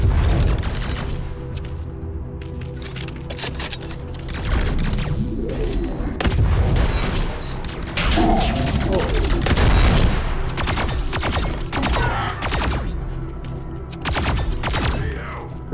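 Explosions and heavy gunfire in the VR game Arken Age on PSVR2, continuous loud booms and bursts of shots with a voice occasionally talking over the din.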